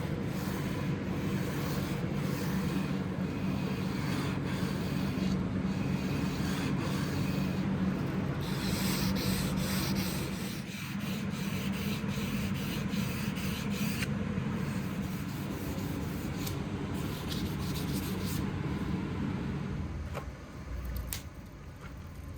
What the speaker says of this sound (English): I'm using a sanding block to flatten the sides and remove the deep gouges left by the grinder.